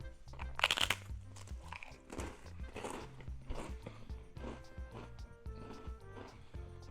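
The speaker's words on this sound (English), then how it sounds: "who wants a crunchy senbei? Yep, very crunchy" A crunchy senbei rice cracker being bitten and chewed, with loud, close, repeated crunches in an uneven rhythm over a low steady background.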